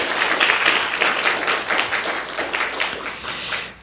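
A church congregation applauds its volunteers, a dense, lively burst of many hands clapping together at close range that swells, holds for a few seconds and then tapers off near the end, with no talking over it.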